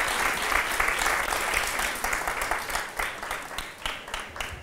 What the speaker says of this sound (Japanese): Let's give the Sunday school kids a big clap offering.